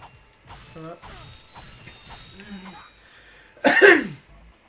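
A single loud, harsh cough bursts out near the end, following quieter voices and shuffling sounds earlier in the clip.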